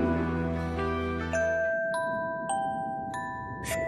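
Bells in the video game Child of Light ring in a series of clear, separate chimes, each struck tone ringing on and decaying over a soft background.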